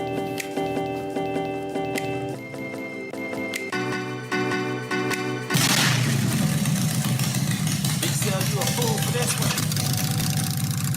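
A Harley-Davidson motorcycle engine idles with a steady, lumpy throb, then the rumble thickens and roughens as revs rise midway, close and loud, with voices heard over it.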